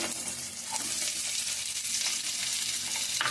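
Chopped onion pieces with green chillies fry in a pan, a steady broadband sizzle with faint stirring scrapes near the end, close and moderately loud.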